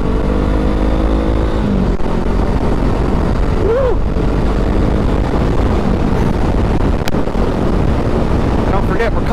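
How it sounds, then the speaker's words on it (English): Honda Rebel 500 motorcycle exhaust while riding, a steady low engine drone under heavy wind buffeting, with a brief rev swell midway and a sharp click near the end. "I'm loving the sound of this exhaust."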